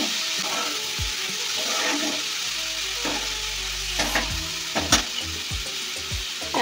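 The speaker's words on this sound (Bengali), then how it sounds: "দু মিনিট সময় ধরে সব কিছুকে একটু ভাজা ভাজা করে নিতে হবে।" Spices and cumin seeds fry in a pan with a steady, close sizzle, broken by a few clinks and scrapes as they are stirred through the hot oil, with no one talking.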